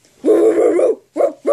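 A person imitates a dog barking with voice: one long drawn-out bark followed by two short yelps, close and loud.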